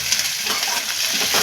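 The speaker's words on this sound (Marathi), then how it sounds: "आपण त्यामध्ये टोमॅटो टाकून घेऊया, थोडी कोथिंबीर आणि हे पण तेलामध्ये 2 मिनिटं परतून घेऊया।" Onion, tomato and coriander sautéing in hot oil make a brief, loud, close sizzle with faint stirring scrapes and no voices.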